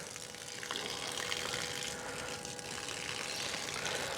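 Portable off-grid water transfer pump running steadily, a continuous broadband rush of water and motor hum filling the whole clip with no talk.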